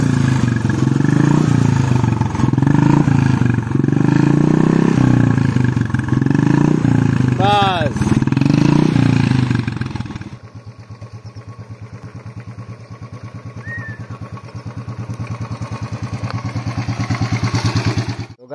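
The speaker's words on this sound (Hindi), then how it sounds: "हाँ अब एक्सीलेटर दे जरा तो एक्सीलेटर सुना दे आपको" A Royal Enfield motorcycle engine revs loudly and roughly for about ten seconds, then drops back to a quieter, steady idle thump that slowly builds again.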